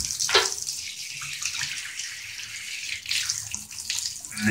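Warm tap water gushes steadily into the tank of a Vax W87-DV-R carpet cleaner in a bathroom, a loud close hiss of running water with slight shifts in pitch as the tank fills.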